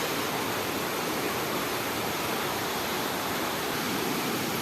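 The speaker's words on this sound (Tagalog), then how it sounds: "Ito na yung tubig na nanggaling sa falls." Continuous rushing water flowing from a waterfall in Tanudan, Kalinga, loud and close, a dense unbroken roar of falling and flowing water with no voices.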